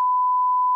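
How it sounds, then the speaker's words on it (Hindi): A fire alarm set off in the Hitman Absolution video game, a single steady electronic beep tone held loud and clean for under a second. "activate fire alarm"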